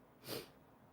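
A single short, breathy sneeze burst, fairly quiet and close, standing out briefly against a low background hush.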